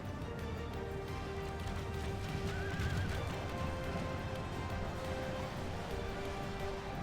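Horses neigh and whinny amid hooves clip-clopping in a loud Total War battle set at Minas Tirith, with a dense, steady din of fighting behind them and no talk.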